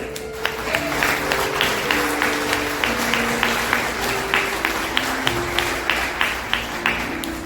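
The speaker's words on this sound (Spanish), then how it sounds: "Denle un aplauso al Señor." A church congregation in Táriba, Venezuela, claps in a steady rhythmic beat over sustained music tones, the even pulse of many hands continuing throughout.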